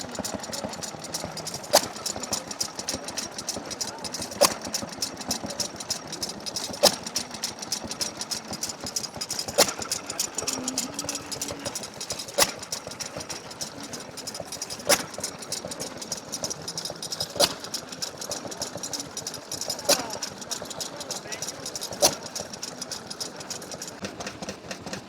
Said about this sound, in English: we've got a nice little Fuller and Johnson farm pumper engine.